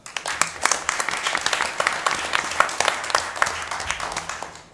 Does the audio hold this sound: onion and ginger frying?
no